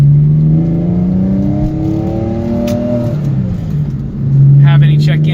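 Idling car engine with the air conditioning on gives a steady low hum whose pitch sags and rises slightly, with a brief whirring burst near the end; someone talks over it throughout.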